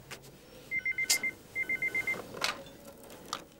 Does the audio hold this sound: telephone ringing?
yes